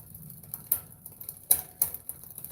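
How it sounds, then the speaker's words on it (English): A bicycle derailleur limit screw is turned clockwise with a tool, giving a series of small, sharp, irregular clicks, close and fairly crisp, against a quiet workshop background with no talking. "I'm going to screw this in, so I'm turning it clockwise, and you're going to hear some clicking"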